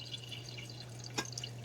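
Beef grease drains into a colander with a faint, steady trickle and a single brighter drip or splash, quiet against a low background hum.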